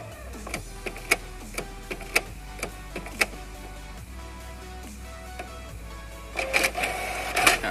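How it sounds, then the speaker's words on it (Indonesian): A Canon Pixma iP2870S inkjet printer running a page: a steady mechanical hum broken by a series of sharp ticks and clicks from the carriage, then a louder whirring and rattling of the paper feed at the end. "Nah, printernya sudah menerima perintah lagi dan siap untuk di print."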